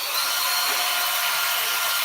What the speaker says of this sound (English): Then I drill a hole inside of the plate.